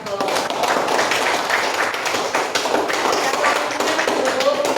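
A classroom group claps steadily and densely in a teaching session, continuous applause with some voices mixed in.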